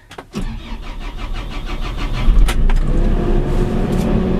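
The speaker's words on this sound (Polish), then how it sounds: "Uruchamiamy sobie silnik ładowarki" A JCB 532-70 loader engine cranks and catches, then settles into a steady, loud diesel rumble that builds slightly and keeps running close by.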